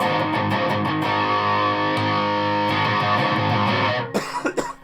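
A sustained, heavily distorted chord from a Jackson V electric guitar with an EMG 85 pickup rings loud and steady, then cuts off into a few short choppy bursts at the end.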